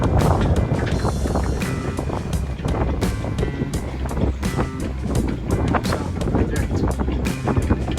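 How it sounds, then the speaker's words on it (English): Strong wind of about 20 knots buffets a classic old sailboat during a race out of Waukegan Harbor, with heavy gusting roar, flapping and clattering rigging and water rushing along the hull, loud and continuous. "especially in the wind that we have, which is around 20 knots"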